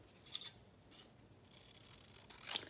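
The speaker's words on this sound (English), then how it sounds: "And let me just trim this off." Scissors trim a small paper bag tag for a junk journal craft, giving a couple of quick, crisp snips close by with a short pause between them, and no voices.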